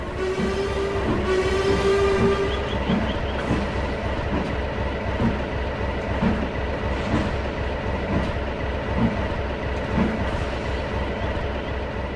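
A steam train rolls along with a rhythmic clickety-clack of wheels, and a drawn-out whistle sounds near the start over the steady rumble.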